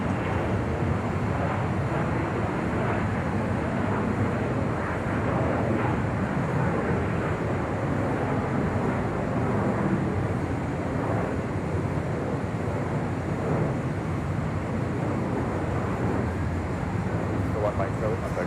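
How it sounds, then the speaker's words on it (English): A Delta 767-300ER arriving from Honolulu roars steadily as it touches down on runway 25 left at LAX, a broad, even jet rumble with faint wind buffeting that holds at a constant level throughout. "This is that Delta 767-300ER committed from Honolulu, about to touch down at 25 left on the south side"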